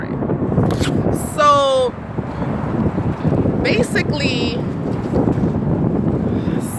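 Strong outdoor wind buffets the microphone in a constant low roar while a person talks over it, with a few higher squeaky sounds standing out briefly.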